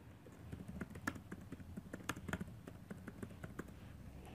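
Typing on a computer keyboard while writing text in Microsoft Word, a steady patter of close, quiet key clicks with uneven rhythm and no talking.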